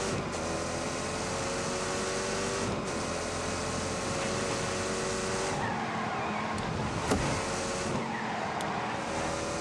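A car in The Grand Tour racing game drives steadily with a constant engine drone and faint tire squeal, moderately loud and alone, with a few brief knocks toward the end.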